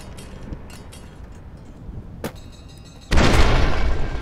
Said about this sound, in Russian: Да елки-палки, что там взрывается?